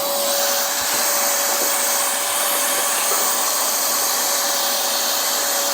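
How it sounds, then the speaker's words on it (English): A vacuum cleaner runs steadily and loud on a home air conditioner that is clogged with dirt and leaves, giving a continuous broadband whoosh with a constant whine and no talk. "So we just have to vacuum this thing."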